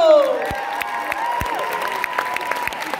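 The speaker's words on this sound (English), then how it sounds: "Give them a round of applause" An audience at a high school a cappella quarterfinal claps and cheers, with scattered sharp claps and whooping voices over a lingering ringing tone that fades at the start.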